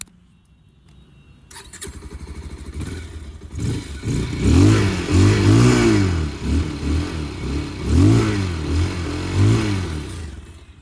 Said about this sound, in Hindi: अब बात कर लेते हैं about the exhaust note of this beautiful Pulsar 220F